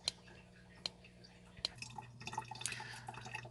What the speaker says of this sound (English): I have my wastewater going into a sink, which creates a little bit of noise